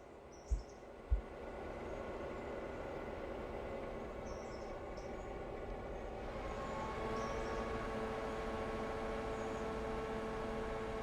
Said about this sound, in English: Okay, now the train's going to leave.